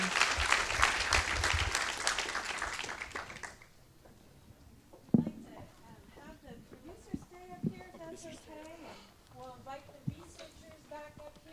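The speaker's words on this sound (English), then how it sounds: "Please give these amazing farmers a" An audience at a climate change symposium claps for a farmers' panel, a loud burst of applause that fades after a few seconds, then quieter talking and scattered sounds follow.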